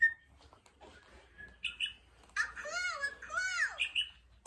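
A small bird chirps and tweets in a few quick bursts, close and fairly clear, with faint voices and soft background noise around it.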